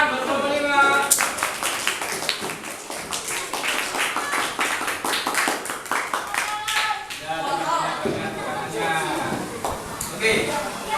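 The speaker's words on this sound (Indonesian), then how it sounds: "Tepuk tangan buat kelompok 5." A classroom of students claps for a group of presenters, dense continuous hand clapping filling the room for several seconds, fairly close and loud, with voices mixed in.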